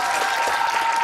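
Audience applause following a song performance at a singing competition final, a dense sustained burst of clapping from a crowd throughout the short moment.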